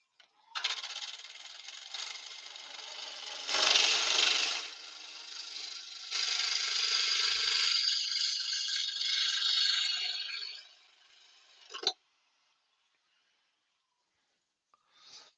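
A wood lathe spins a small yew blank while a tool strips its bark for a clean finish, giving a steady, rough scraping rattle that swells and eases for about eleven seconds before stopping sharply.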